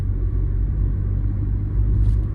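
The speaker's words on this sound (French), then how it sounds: "On va accélérer un peu, voir quand même comment ça se comporte" A Peugeot 108's engine rumbles steadily at close range while accelerating, a low continuous drone with a slight swell, no voices.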